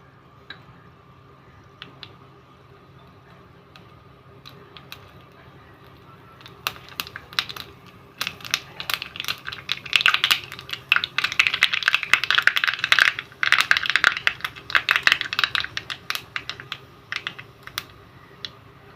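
Mustard seeds dropped into hot oil for tempering a mango pulissery, crackling and popping in quick irregular bursts that start faint and grow dense and loud in the second half.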